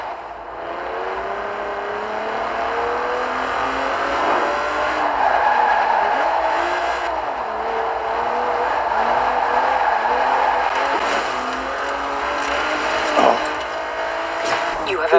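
In Forza Horizon 4, a Cadillac race car on the Nürburgring drones with a sustained engine note that rises and shifts as it accelerates, and a person talks over it.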